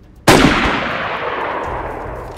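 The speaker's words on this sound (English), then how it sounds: "Nope, they're shooting at us." One loud, close gunshot from a player in DayZ, a sharp crack followed by a long, fading rumbling echo.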